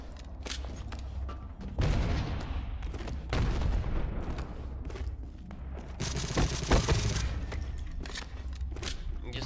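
Gunfire in the video game Ballistic Overkill: repeated shots and heavy booming bursts, some near and some farther off, going on through the whole stretch over in-game background sound.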